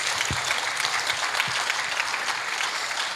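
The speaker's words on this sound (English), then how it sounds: "Please give him another round of applause." A university convocation audience applauds a guest lecturer with dense, steady clapping that fills the hall, a few lower thumps scattered through the continuous sound.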